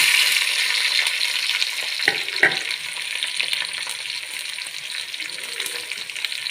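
Browned onion and spices frying in oil for a fish curry, a steady bright sizzle throughout with a couple of sharp spoon scrapes in the pan, close and continuous, no talking.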